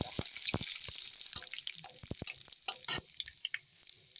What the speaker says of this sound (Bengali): তেলে আমি এখন 5 ফোড়ন আর শুকনো লঙ্কা ফোড়নে দিয়ে দিলাম একটা তেজপাতা